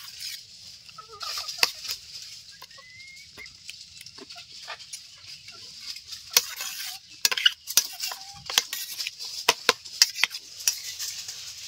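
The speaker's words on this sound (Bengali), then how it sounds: "সবকিছু খুব ভালো করে মিশিয়ে নেব।" A spoon stirs and scrapes a thick semolina batter in a pan, with irregular sharp clinks and scraping strokes close up and fairly loud, and brief quiet gaps between them.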